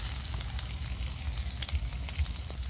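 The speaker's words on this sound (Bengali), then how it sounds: "তো পেঁয়াজ আর রসুনটা ভাজা গেছে," Onion and garlic fry in a pan with a steady, even sizzle and faint scattered crackles, close by and without any speech.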